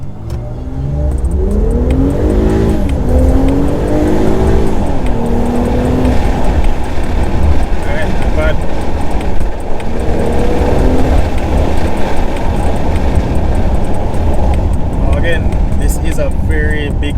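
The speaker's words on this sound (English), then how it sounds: "give you guys a little bit of a launch just to show you guys what the acceleration looks like" A 2024 BMW X6 LCI sports activity coupe launches hard in sport mode, its engine note rising steadily through the gears as it pulls away, loud and continuous with a person talking over it throughout.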